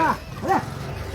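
A dog barks twice nearby in a residential neighbourhood of Bhuj, India, two short, sharp barks in quick succession, then quiet background.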